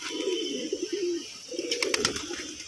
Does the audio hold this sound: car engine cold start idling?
no